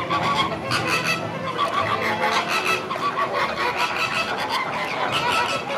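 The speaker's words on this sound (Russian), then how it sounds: "Привет, фламинго." Flamingos calling at Sea World in California: a loud, dense flock of honking, goose-like cries that continues throughout, close by.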